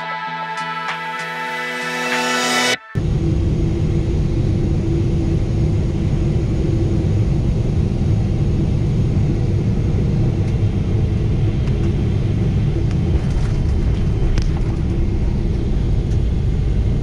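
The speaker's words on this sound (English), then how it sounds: "Shortly we started our descent into Bangkok" Steady broadband cabin roar of a Qatar Airways Boeing 777 descending into Bangkok, loud and constant after an abrupt cut-in, with faint higher whines drifting over the dense low rumble.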